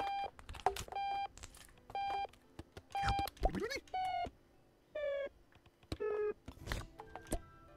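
Repeated electronic alarm-clock beeps in the video game Octodad: Dadliest Catch, short regular tones sounding about once a second while a voice talks over them and other game noises drift in and out.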